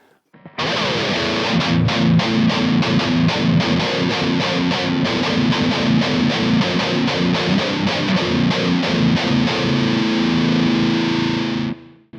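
Heavily distorted metal guitar, played through a Kemper, chugs through a dense, rhythmic breakdown, loud and gritty, with tight palm-muted hits repeating steadily until it cuts off.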